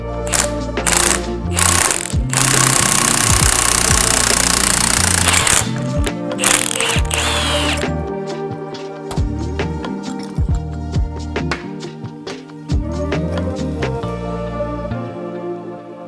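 A typical ball joint press forcing a suspension bushing out of a Subaru WRX, heard as loud grinding, clicking mechanical strain with a steady harsh roar midway, then rhythmic ratcheting clanks, close up with no talking.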